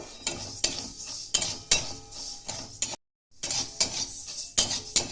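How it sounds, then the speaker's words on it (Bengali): Golden moong dal being dry-roasted and stirred in a dry pan, with repeated scraping and clinking of a utensil against the metal in an uneven rhythm, close and fairly loud, with one brief gap of silence. "আমি শুকনো খোলায় আমি একটু লাল করে ভেজে নেবো"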